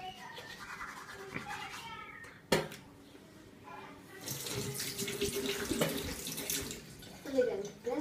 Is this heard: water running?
yes